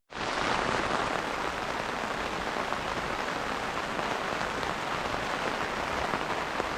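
Steady, dense rain on a summer road trip by Lake Windermere, a constant close hiss of drops drumming on a surface that starts abruptly and holds even throughout, with no voices.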